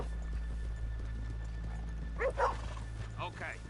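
Horses in Red Dead Redemption 2 clop slowly over a low ambient background, with a few brief vocal sounds and voices surfacing near the end.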